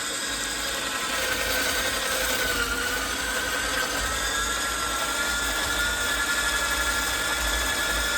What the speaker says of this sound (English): Probably my mixer is going to make a noise and I apologize for that.